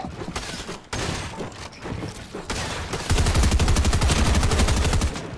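Weapon fire in the Fortnite video game: scattered shots at first, then a dense, loud stream of rapid rounds rattling in quick succession for the last couple of seconds.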